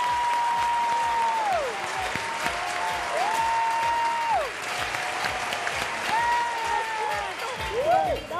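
A studio audience on a weekend cooking show applauds the arriving guests, sustained, even clapping at steady loudness for several seconds with tonal music sweeping in and out underneath.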